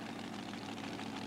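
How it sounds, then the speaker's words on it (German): A methanol-fuelled, Chrysler-engined pulling tractor at a 1997 tractor pulling event in Sottrum roars with a steady, dense, heavy engine drone, fairly distant and continuous throughout. "Kreisler-Motoren, Methanol getrieben."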